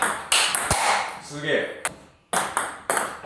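Table tennis ball struck with a paddle faced with Tenergy 19 rubber: several sharp, close pings in quick succession, with a voice exclaiming between hits.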